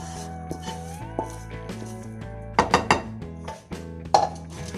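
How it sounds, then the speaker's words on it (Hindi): Suji halwa with egg being dished out into a serving dish: a few close metal clinks and scrapes of a spoon against pots and plates, two clusters louder than the rest, with no talking. "अब मैं इसको डिश आउट करती हूँ"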